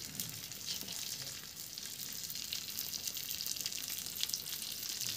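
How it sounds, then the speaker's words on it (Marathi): Fresh tilapia fish pieces fry on a flat griddle, giving a continuous soft sizzle and crackle of hot oil that stays fairly quiet and even, with no talking. "आणि इकडे तव्यावर थोडीशी करते मच्छी फ्राय करते"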